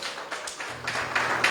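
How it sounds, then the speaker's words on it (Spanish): A church congregation claps in praise, a dense patter of hand claps building across the short span, fairly close and steady with no talk over it. "Dele un aplauso al Señor."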